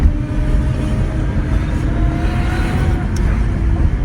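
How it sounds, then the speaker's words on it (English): A BMW E34 535i barn find, sitting for years, rolls along with a faint steady drivetrain whine from the differential or gearbox, riding over a loud low road and engine rumble inside the car. "It's whining. Is that the diff? The diff or the gearbox?"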